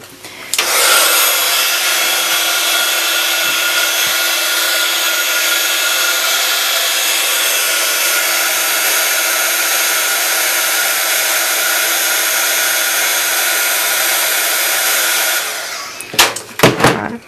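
A heat embossing tool runs loud and steady for about fifteen seconds while heat-setting glitter on a stamped floral card, its broadband blowing whir constant until it cuts off near the end with a few brief handling knocks.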